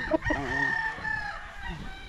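A gamefarm rooster crows once, loud and close, its long drawn-out call clear and unbroken, with faint clucking from other fowl nearby.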